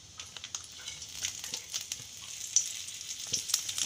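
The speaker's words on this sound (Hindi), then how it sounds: "हमारी घी गर्म हो चुकी है तो अब हम जो खड़े गर्म मसाले वो डाल देते हैं" Whole garam masala spices crackling in hot ghee for chicken korma, a bright, close sizzle with scattered light pops and a few stirring taps, steady over a few seconds with no voice.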